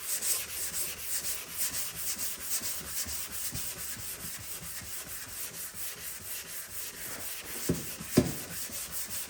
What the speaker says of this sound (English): you can block a curved area with a flat block